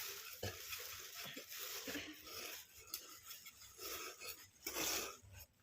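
Scissors slice through folded frock fabric in faint, close rasping strokes of uneven rhythm, with no talking.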